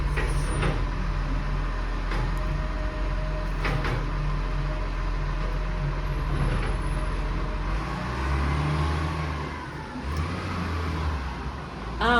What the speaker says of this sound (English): garbage truck just going past